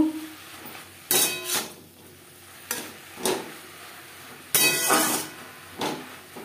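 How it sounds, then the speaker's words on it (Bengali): A taro leaf and milk mixture being stirred in a pan, with several separate scraping and clattering strokes of a utensil against the cookware spaced across the stretch, close by and fairly quiet, no talking. "এইভাবে নাড়াচাড়া করে দেব।"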